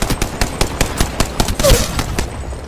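Rapid automatic gunfire from a shooter game on mobile, a steady run of loud, evenly spaced shots with one brief electronic chirp near the end and a faint tone trailing after the firing stops.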